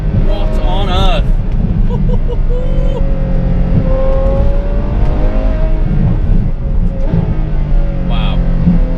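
A Ferrari F12 fitted with an Innotech IPE exhaust rumbles and revs close by, a loud, steady engine drone running under continuous talk.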